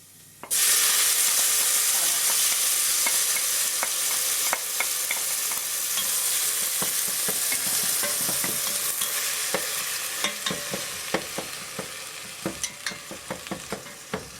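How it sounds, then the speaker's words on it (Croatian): Garlic fries gently in olive oil for a spinach soup, giving a steady bright sizzle throughout, broken by clinks and scrapes of stirring that come more often toward the end. "Beli luk treba samo da pusti miris u maslinovom ulju."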